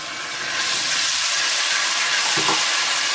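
Steady, loud sizzling of onion, ginger and garlic frying in a pan, a continuous hiss with a brief scrape of stirring.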